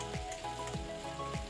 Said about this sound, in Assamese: এতিয়া হেতাৰে থেকেচি বিলাহী ভাজি আছে